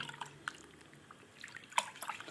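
Water drips and splashes softly as chicken pieces for popcorn chicken are dipped into water and squeezed out, making a few faint, close drops and trickles over a quiet kitchen background.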